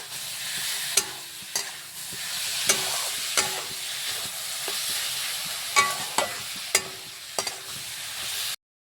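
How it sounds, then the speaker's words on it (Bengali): Wild forest mushrooms sizzle and fry in a pan under a steady hiss, punctuated by sharp scraping clicks of a spatula stirring them every second or so, close and fairly quiet. "এখন ছাতু গা এখানে দিয়ে লাড়াচাড়া করে একদম সেটাও আবার ভাজিয়ে নেবো ছাতু গাকে"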